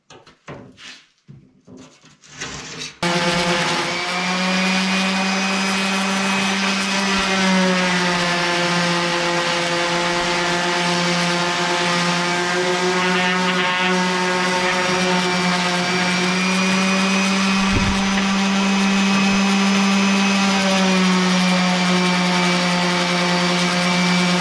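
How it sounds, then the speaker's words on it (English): A power sander runs steadily against a custom door panel for a Honda Pioneer 700, a loud continuous whine holding for over twenty seconds after a brief start-up, with no voices. "take the sander and put a whole bunch of scratches in it"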